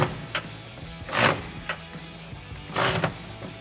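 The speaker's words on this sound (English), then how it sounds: "take a 13 millimeter socket to tighten down all of our nuts" A ratchet with a 13 mm socket tightens nuts on a side-step bracket of a RAM 1500 pickup, giving two longer bursts of rapid clicking plus a few short isolated clicks, close and clear with no talking.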